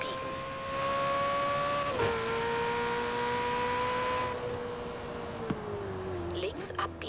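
Car engine in the Forza Horizon 4 racing game holding a steady high drone with sustained revving tones and a couple of pitch drops, loud and continuous, under someone talking in German.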